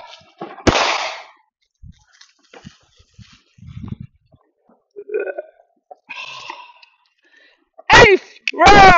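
Fireworks set off by a family go off in separate sharp bangs, a loud crack near the start and a bright burst of pops at the end, with quieter rustles and brief voices in between.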